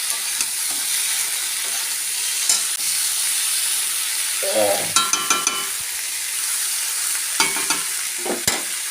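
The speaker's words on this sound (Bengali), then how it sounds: "ভালো করে ভেজে নেবো মশলা টশলাও দেওয়া হয়েছে সব বাটা ছিল" Cauliflower and boiled potato curry fries in a pan with ground spices, making a loud, steady sizzle. Occasional spoon scrapes and clinks against the pan break through, with no talking.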